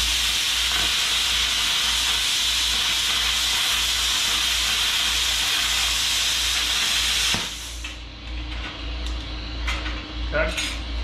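A Bestarc BTC500DP plasma cutter slicing through 3/16 inch metal gives a loud, steady roaring hiss that stops abruptly partway through, leaving a low hum and a few faint clicks.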